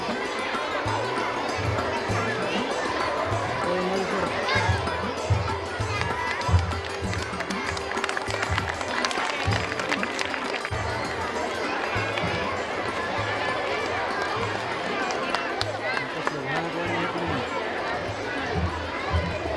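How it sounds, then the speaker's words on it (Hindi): Dense, steady applause from an audience at a school annual awards function, with voices talking over it throughout. "तालियां"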